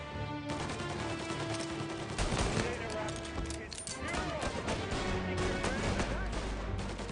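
Rapid gunfire from the Mafia Definitive Edition video game crackles loudly and continuously, with bursts of shots and shouting voices over a droning game soundtrack.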